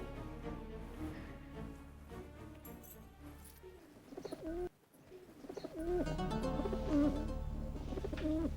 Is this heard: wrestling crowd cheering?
no